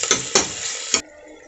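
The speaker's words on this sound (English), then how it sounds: "so now we will add tomatoes in it and we'll mix them properly" Onions and tomatoes are stirred in a pan. Three quick scraping strokes with a soft sizzle come close together, then stop abruptly into quiet.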